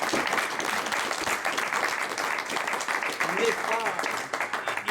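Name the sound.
audience applause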